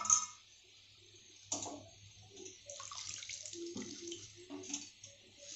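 Rela (golden shower) flower petals are rinsed in water by hand, giving soft splashing and trickling with small clicks and taps, close and fairly quiet, with no talk.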